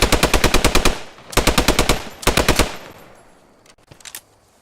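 Gunfire in the World War II shooter Post Scriptum, heard at night during a bunker assault: two rapid bursts of machine-gun fire, then a third shorter burst, loud and close, followed by faint scattered distant shots.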